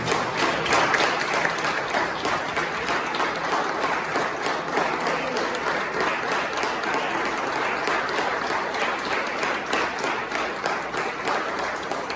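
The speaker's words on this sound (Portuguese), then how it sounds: "dê uma salva de palmas para o nosso Senhor" A church congregation claps continuously and loudly for the full length, a dense, even roar of many hands applauding together.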